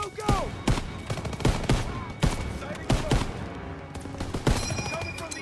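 Machine gun fire in the World War II shooter Call of Duty: WWII, a loud dense fusillade of repeated bursts with heavy impacts, shouting voices mixed in amid the battle.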